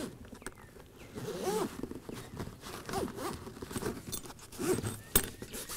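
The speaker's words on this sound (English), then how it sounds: "The zipper's nice and smooth, and inside it's fully lined and waterproof." Zipper on the side-table pouch of a Timber Ridge Laurel directors chair, pulled in a few short, close, smooth runs with light rustling and handling clicks, no talking.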